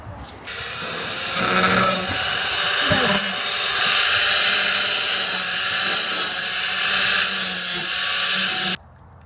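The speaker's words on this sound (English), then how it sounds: "we've got some jagged edges now which I need to smooth off" Power tool grinding down jagged cut edges during a 12V air-conditioner installation, a loud continuous rasping whine that runs nearly nine seconds close by, then cuts off sharply.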